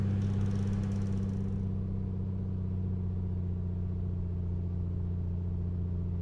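A Piper Comanche piston engine holding a steady run-up at about 1800 RPM in a flight simulator, droning with a strong low hum and a throbbing rhythm, loud and constant throughout with no talking.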